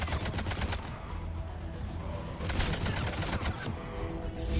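Sustained automatic gunfire from a firefight in the video game Mass Effect 3, rapid dense bursts that run loud and continuous throughout with no talking.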